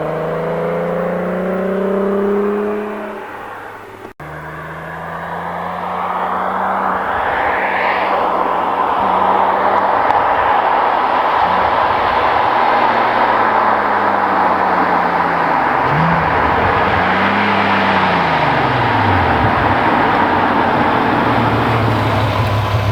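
Two VR6 car engines, a 2.8L and a 3.2L, rev hard and downshift outdoors at night: a loud, steady engine roar with rising and falling pitch sweeps from gear changes, rolling on without a break and with no talk.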